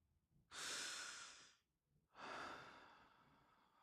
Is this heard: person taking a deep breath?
yes